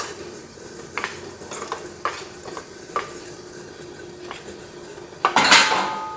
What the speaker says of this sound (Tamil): கொஞ்சம் அடுப்பை தீயை குறைச்சிட்டு மெதுவாக கிண்டுங்க.